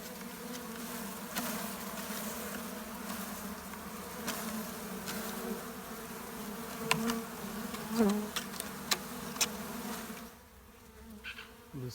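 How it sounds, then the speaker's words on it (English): A small late-season swarm of honey bees buzzes around their new hive box, a close, steady droning hum with occasional louder passes and faint knocks, easing off toward the end. "There's still a few bees clustering up there in the tree, but I know the queen's definitely in the box."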